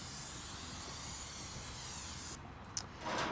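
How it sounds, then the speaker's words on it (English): Steady hiss of a spray can coating the heat deflector of a Char Griller Gravity Fed 980 grill, a continuous faint spray that stops near the end, followed by a couple of small clicks and a soft rustle. "And now we're gonna spray the deflector here."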